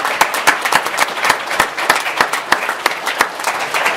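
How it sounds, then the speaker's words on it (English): A round of applause at a board meeting: sharp, distinct hand claps come in a loose, rhythmic patter from a modest group, close and fairly loud, with no speech during it. "And I'd like to have a second round of applause,"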